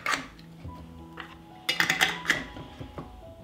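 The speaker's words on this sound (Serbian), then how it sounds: "tegle zatvaram sa čistim i novim poklopcima" Glass jars are closed with clean new lids, giving a close series of metallic clinks, taps and scrapes, with a sharper cluster of knocks in the middle and no talking.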